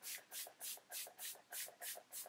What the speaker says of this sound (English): I also want to spray my face with setting spray.